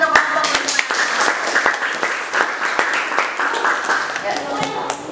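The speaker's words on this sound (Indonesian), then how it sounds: "tepuk tangan untuk kelompok" A classroom claps for a student group after a presentation in an Indonesian school lesson. Brisk, fairly close clapping from a small crowd runs for about five seconds with sharp individual claps, and voices talk over it.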